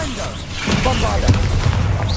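A Bombarda blasting spell detonates in a video game, a booming burst of explosive crackle and rumble layered with overlapping speech.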